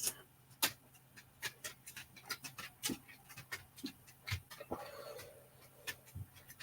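A dog pants in quick bursts indoors, paced out in a rhythm of short breathy huffs with ticking clicks, close and moderately loud, with no talk.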